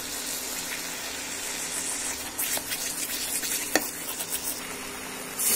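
Besan being stirred and roasted in a pan for halwa gives a steady broad sizzle with soft scraping strokes of the spoon, one sharper knock near the end, and no talking.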